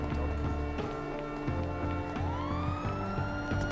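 A wailing police siren in GTA V gameplay, sweeping up and down over a pulsing game music bed, with rhythmic thumps and a faint voice in the background.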